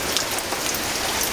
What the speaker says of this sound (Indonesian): hujannya kayak ngene iki